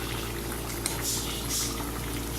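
Chicken karahi simmering in a covered wok, a steady bubbling hiss of boiling liquid throughout, fairly close and even in level.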